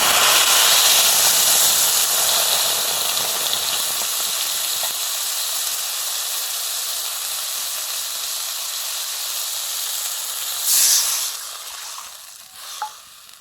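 A ground paste of turmeric, green chili, raw tamarind and mustard hits hot oil in a pan with a loud, steady sizzling hiss that gradually softens, followed by a couple of brief spattering pops.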